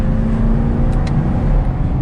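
A 2021 Chevrolet Camaro LT1 V8 engine drones steadily at around 60 mph through sweeping curves, with heavy low rumble and road noise, recorded close and loud throughout.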